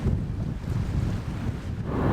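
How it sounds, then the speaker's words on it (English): Steady, loud wind buffeting the microphone on the Scottish Highlands near the Isle of Skye, a continuous low roar with gusts and no voices. "It's pretty windy right here."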